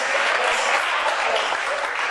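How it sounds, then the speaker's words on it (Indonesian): An audience applauds steadily for Batak people present at a comedy show, a dense wash of clapping hands at an even level throughout. "tepuk tangan lo orang Batak"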